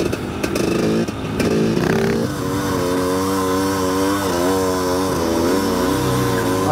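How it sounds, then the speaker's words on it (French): A Harley-Davidson motorcycle revs hard during high-speed wheelies, a loud, close engine drone that rises and dips in pitch through several throttle swells with no speech. "Je roule en Harley Davidson."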